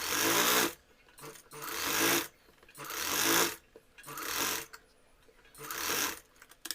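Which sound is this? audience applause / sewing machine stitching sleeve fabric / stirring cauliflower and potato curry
sewing machine stitching sleeve fabric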